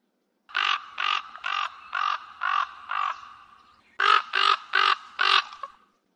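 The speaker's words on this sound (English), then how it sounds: "Raven." A raven gives a run of harsh, hoarse caws, six evenly spaced calls, a short pause, then four more, loud and close.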